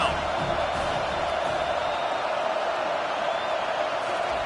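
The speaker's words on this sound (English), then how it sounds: "Decibels rising as the crowd gets behind this defense on third down." A college football stadium crowd roars steadily on a third-down defensive stand, a dense, continuous wash of noise at even loudness throughout.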